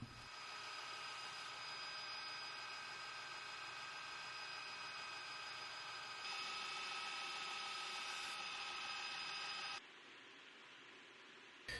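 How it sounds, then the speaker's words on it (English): A knife blade is ground on a 160-grit Gator Grip belt grinder, a steady broadband rushing hiss with a ringing tonal whine that shifts as pressure changes, then drops to a quieter motor hum. "hitting it up on the 160 Gator Grip belt"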